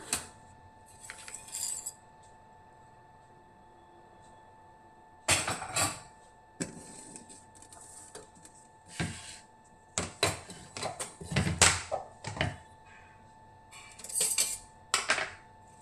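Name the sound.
chopping green chilies, curry leaves, garlic, ginger and spinach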